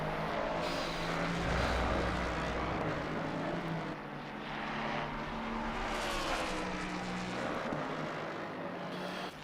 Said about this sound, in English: I mean, that sounds just like a Legends car to me